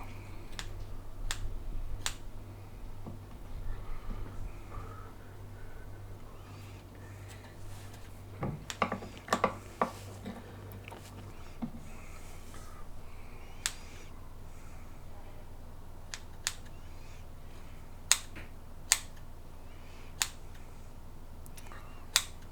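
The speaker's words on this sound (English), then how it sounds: "we're just going to chop it up with a pair of scissors" Scissors snip through bacon repeatedly in sharp, separate clicks, spaced irregularly over a low steady hum, close and crisp.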